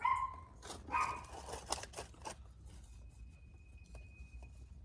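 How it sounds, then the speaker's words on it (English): A dog barks from somewhere nearby at a rural homestead, a few sharp yaps at the start, then the barking fades into quieter noise. "that dog won't stop barking"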